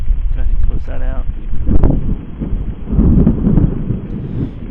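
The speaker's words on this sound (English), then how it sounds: "You're currently hearing the thunder in Stillwater, Oklahoma." Thunder rumbles through a severe October evening storm in Stillwater, Oklahoma, deep and rolling under a person talking, with gusty wind noise.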